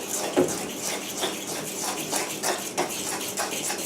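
A spoon scrapes and clinks around a bowl while a cooking mixture is stirred, with a steady run of soft scraping taps over about four seconds, fairly close and alone.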